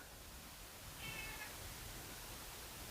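A cat gives a single short, faint meow midway through, nearly lost under a steady hiss of background noise.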